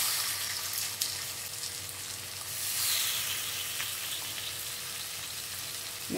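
Meat satay sizzling in a very hot pan: a steady, close hiss of frying that holds evenly for several seconds and swells briefly midway.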